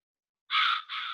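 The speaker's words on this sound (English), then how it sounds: "is this a real crow?" A crow cawing, played as a spooky sound effect: one long, loud, harsh caw that dips briefly and then continues, standing alone against silence.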